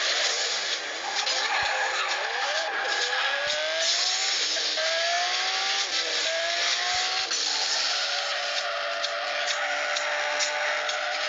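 Engine whine from an Android car racing video game, its pitch climbing and dropping repeatedly alongside steady tire skids and squeals, loud and continuous throughout.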